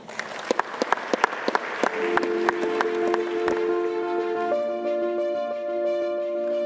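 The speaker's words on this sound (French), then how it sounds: "Merci beaucoup de l'applaudir" At a MEDEF business event, scattered sharp claps build into fuller applause as a speaker comes onto the stage, then a sustained musical tone swells in under the fading clapping.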